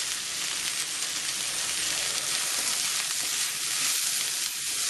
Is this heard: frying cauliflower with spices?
yes